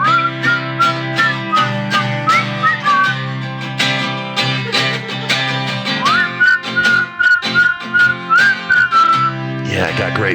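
Someone whistles a meandering melody over a steady musical backing, the tune rising and falling throughout.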